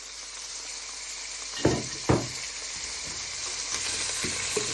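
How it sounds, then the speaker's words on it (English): Peppers, onion and garlic sizzle steadily in a hot pan, a continuous frying hiss broken by two sharper clunks of food hitting the pan early on, with no voices. "So you're now going to place in all your peppers, onion and garlic."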